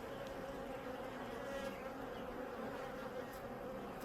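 Honeybees swarm around an open hive during a routine apiary inspection, a dense, steady buzzing drone that stays fairly faint and continuous with no talking.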